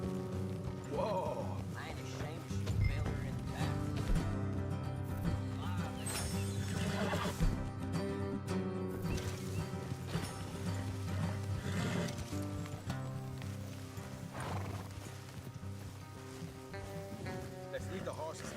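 Horses in a video game neigh and whinny with clip-clopping hooves beneath a continuous layer of music and ambience, the sounds moderately near and mixed together throughout.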